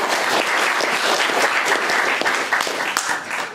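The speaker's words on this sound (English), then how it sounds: "Can I have a round of applause for Andy" An audience at a talk on retracing Tolkien's Swiss journey gives a warm round of applause; close, full clapping holds steady, then thins slightly toward the end.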